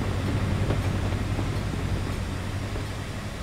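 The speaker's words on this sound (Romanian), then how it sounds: "Oh, mai uite, dar mare-i trenul." A long train in Euro Truck Simulator 2 rumbles steadily past, a continuous moderate drone of wagons with a low hum and soft wheel rattle, gently fading toward the end.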